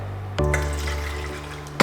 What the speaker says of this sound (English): So first of all, we put the water